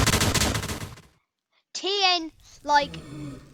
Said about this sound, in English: we're going to move on to the erupting TNT, which is my favorite in the mod